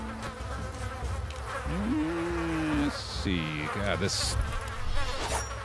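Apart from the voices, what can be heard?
flies buzzing in a video game (Goblin Stone)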